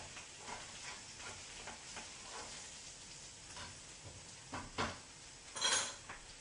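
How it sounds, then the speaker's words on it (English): Butter melting and sizzling in a pan while king crab legs cook, a steady hiss of frying with a few sharp clinks of utensil against pan near the end. "And that butter is going to really saute it now and bring it all together"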